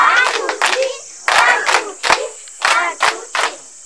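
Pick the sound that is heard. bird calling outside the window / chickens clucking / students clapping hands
students clapping hands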